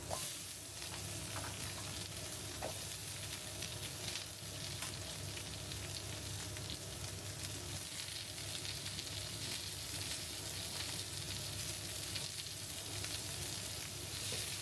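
Shredded ginger and sliced bell peppers stir-fry in a hot wok, a steady close sizzle with occasional soft scraping and tossing, continuous throughout without speech.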